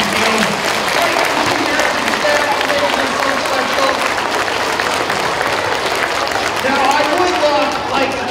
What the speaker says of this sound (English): Should we give them a round of applause and a thank you?